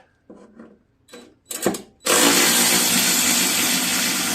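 A power tool backs a T25 Torx bolt out of a John Deere L130 riding mower: a few short bursts of whirring, then a loud sustained high-pitched spin, close up.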